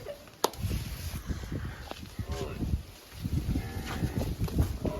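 Low mooing calls from cattle nearby as they are given fodder, mixed with rustling, thumps and some faint talking in the background.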